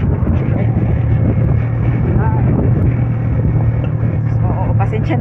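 Steady, loud wind buffeting and engine rumble from a motorcycle riding along a road in Boston, Davao Oriental, continuous throughout with faint voices underneath.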